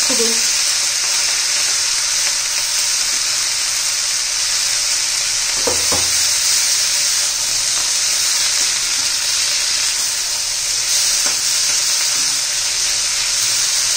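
Whole, uncut fenugreek leaves hit a hot pan with besan and chilli powder, setting off a loud, steady sizzle that runs throughout, with a few brief scraping stirs of a spatula near the middle and end.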